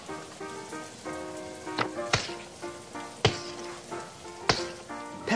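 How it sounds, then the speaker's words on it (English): Rain in a cartoon setting, heard as a steady patter with several sharp drop-like hits standing out over a soft continuous background, fairly close and alone with no talk. "That sounds like rain, says Peppa."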